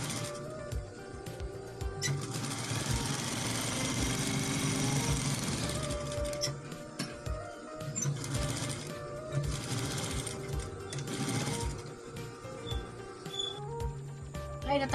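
Sewing machine stitching along marked lines on a guard uniform's hand caps, a steady fast mechanical whir that runs continuously, pauses briefly and restarts in several bursts, close and loud with no talk.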